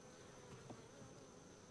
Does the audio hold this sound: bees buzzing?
yes